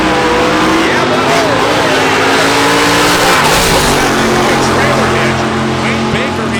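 Drag race car from Hot Rod Drag Week roaring down the strip at about 154 mph, a loud continuous engine roar with a shifting pitch, heard under a commentator's talk.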